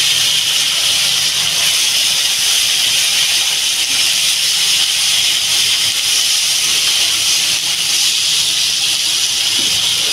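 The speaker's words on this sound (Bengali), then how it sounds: "এবার আমি এই সবজিটা ঢেলে দেবো। তেলের উপরে এই জন্য দিলাম জিরা গুঁড়িটা" Vegetables hit hot oil seasoned with cumin in a pan, giving a loud, continuous sizzling hiss that stays steady throughout, up close and with no talking.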